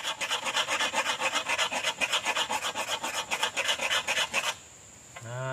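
Raised nail on an oil palm sickle (egrek) fitting being ground down, giving close, steady rhythmic rasping strokes for about four and a half seconds before stopping abruptly.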